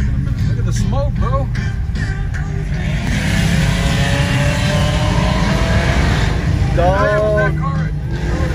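Several cars rev their engines hard while doing smoky burnouts at a street cruise, a loud continuous roar with surging revs and tire noise close by, under excited talking.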